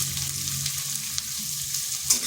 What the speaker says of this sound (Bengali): আদাটাকেও একটু ভেজে নিচ্ছি।